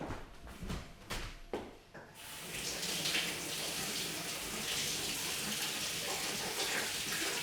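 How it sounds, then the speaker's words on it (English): A kitchen tap gushes as a pepper is rinsed under it, first a few handling knocks and clunks, then a steady, fairly close rush of running water splashing into the sink for the rest of the clip. "I'm just going to give my pepper a wee wash."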